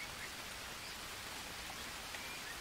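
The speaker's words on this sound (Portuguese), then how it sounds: "Tá de sacanagem que tá chovendo de novo." Rain pouring in the jungle survival game Green Hell, an even, unbroken hiss of falling drops with no voices over it.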